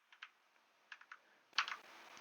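Keys on a 60% computer keyboard are pressed in short bursts, a few quiet clicks followed by a louder, quicker cluster of taps close to the microphone.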